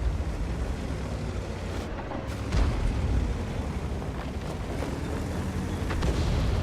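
Artillery shells from enemy artillery exploding near a tank in the World of Tanks video game, heavy low booms over a constant dense roar of engine and battle noise, with a sharp impact near the start and another swell toward the end.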